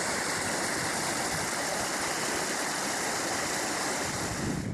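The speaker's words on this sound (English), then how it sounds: "I'm crossing the river here." River water rushes steadily and loudly in a dense, unbroken hiss, close by on a mountain crossing near Slieve Donard, with no voices.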